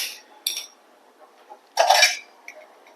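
A metal uruli cooking pot is set onto a stove, producing a few separate clinks and scrapes, with one longer metallic clatter in the middle, in an otherwise quiet kitchen.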